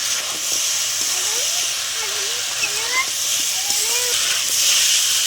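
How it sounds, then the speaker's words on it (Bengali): Shrimp and fried pointed gourd sauté in a pan with a constant close hiss and sizzle, while a voice talks over the frying. "চিংড়ি মাছটাও দিয়ে দিলাম, ভাজা পটলও দিয়ে দিলাম, ভালো করে কষিয়ে নেবো।"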